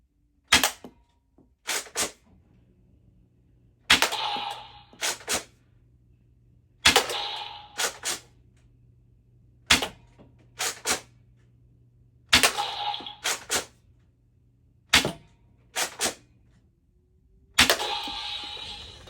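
An X-Shot toy blaster fires at electric targets, making sharp snapping pops in clusters of two or three with brief rattling knocks between, repeating steadily over a low background hum.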